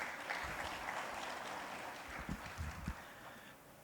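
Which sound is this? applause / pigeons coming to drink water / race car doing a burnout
applause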